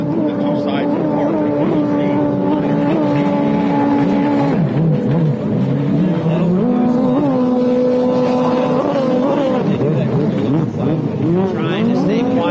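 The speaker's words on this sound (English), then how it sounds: "so you can hear that exhaust running" A race vehicle at an off-road course in Paris, Texas runs past with a steady droning exhaust that shifts pitch as it goes by, loud and continuous throughout.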